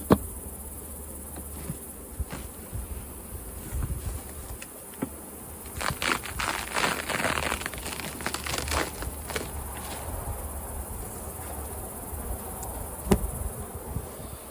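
Honey bees swarm and buzz around five stacked hive boxes, a dense, steady drone close by with bursts of louder activity, alone without any talking.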